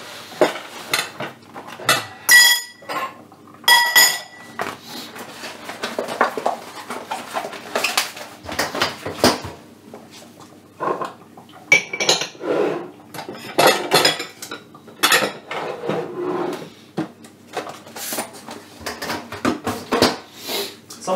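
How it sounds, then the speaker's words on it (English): Dishes and cutlery clink and clatter repeatedly in a kitchen while crafting a Christmas ribbon, with irregular bursts of clattering throughout and some quieter handling between them, no speech. "Some dishes."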